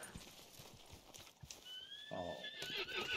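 In a Red Dead Online game session, a horse's hooves clip-clop in a quick, light rhythm and then it lets out a loud, wavering neigh. The sound is fairly faint under a soft background.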